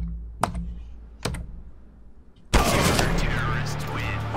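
A computer keyboard is typed on during a Counter-Strike game: two isolated, close key clicks, then a sudden loud, dense burst of game noise that swamps the rest.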